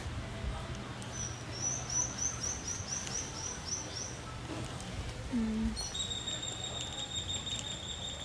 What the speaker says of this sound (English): birds singing everywhere